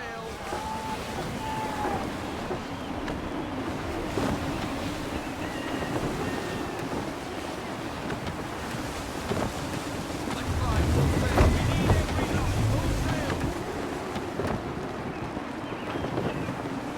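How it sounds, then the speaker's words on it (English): Gusty wind and rolling waves while sailing a ship in the video game Assassin's Creed III, a constant loud rush of wind and water with a swell of surging sea near the middle, under a voice speaking. "Gusty winds can be difficult to manage."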